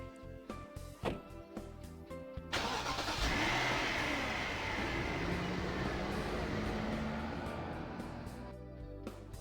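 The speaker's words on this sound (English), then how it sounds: "So the car takes off." A car in the video game Persona 4 Arena pulls away, a loud broad engine roar with rising revs that swells after a few seconds of music and fades slowly as it drives off.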